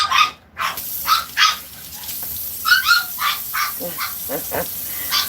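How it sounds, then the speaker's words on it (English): Young dogs let out a string of high, yappy barks and squeals at a distance, scattered and irregular as if at play. "I apologize for the puppies in the background"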